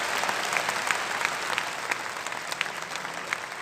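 A large audience in Bapu Sabhagar hall claps loudly, a dense, steady wash of applause that continues without pause.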